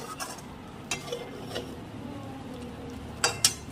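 Cornflour slurry stirred into lemon chicken in a pan, with steady sizzling and a few spoon scrapes and clinks against the metal, loudest near the end.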